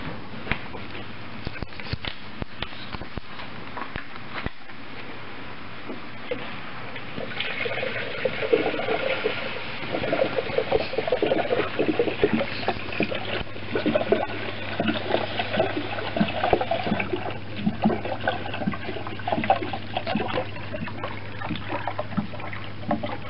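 Excess coolant water trickles and drains from a radiator funnel on a 2002 Ford Falcon, soft splashing and patter growing busier midway, with faint handling noises.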